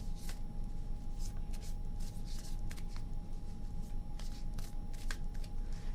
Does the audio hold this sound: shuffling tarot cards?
yes